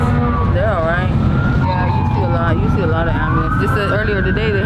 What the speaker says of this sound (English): Yeah, you see a lot of ambulance.